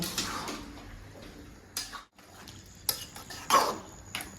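Vegetable and bori curry stirred in a pot, irregular scrapes and clinks of a spoon against the metal between quiet stretches, with soft bubbling beneath and one brief pause.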